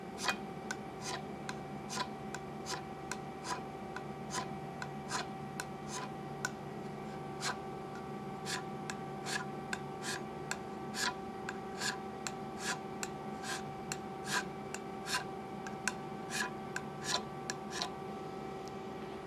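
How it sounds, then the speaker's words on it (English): A hand scraper works across a machined metal surface in quick, evenly repeated short strokes, each a faint crisp scratch, steady over a low background hum for nearly twenty seconds. "You hold your scraper at about 30 degrees to your workpiece, and then you do just like that"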